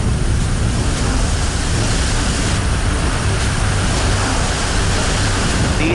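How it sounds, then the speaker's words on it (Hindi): Rough sea waves at Digha beach in West Bengal during Cyclone Amphan form a loud, unbroken roar of surf and wind-driven water that stays dense and level throughout, with no voices. "दीघा में समंदर की लहरें डराने लगी हैं।"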